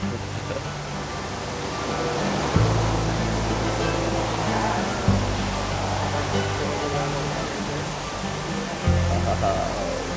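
An Oregon waterfall drops in two tiers, a secondary fall below the main one. It makes a continuous broadband rush of falling water with a low rumble and a few faint thumps mixed in.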